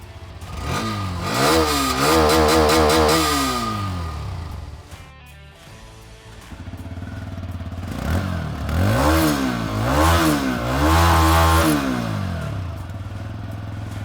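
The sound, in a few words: exhaust note of Hero Xtreme 125R and TVS Raider 125 motorcycles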